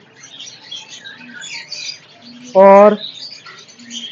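Pet blue fisher birds at a busy Sunday bird market, soft scattered chirps amid crowd murmur with one loud, sharp call near the middle; someone talks nearby.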